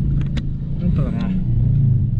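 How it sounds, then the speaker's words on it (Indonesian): Busy road traffic with many motorbikes, some riding against the flow, rumbles steadily throughout, close and loud, with people talking over it. "Kondisi ramai sekali, lalu lintas banyak motor lawan arah"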